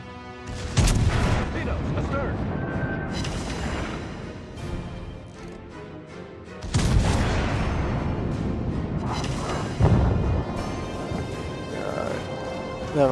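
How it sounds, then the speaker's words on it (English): Heavy guns of the battleship USS Alabama fire in a naval combat video game, three big booming salvos with rumbling tails spread across the stretch over constant game noise. "You hear them guns? Those are some powerful guns."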